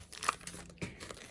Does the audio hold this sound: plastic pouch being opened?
yes